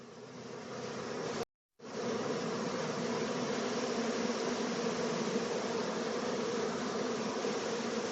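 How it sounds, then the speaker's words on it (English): A honeybee swarm near a hive box hums in a dense, continuous drone of buzzing and fanning, close and steady, with one sudden momentary cut. "So if these bees start fanning"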